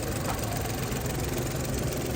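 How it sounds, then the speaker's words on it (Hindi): A Suzuki Alto VXR car engine idles just after starting, a steady, close, even rumble with no pauses. "देखिए गाड़ी स्टार्ट हो गई, सिर्फ इंजन ऑटोमेटिक"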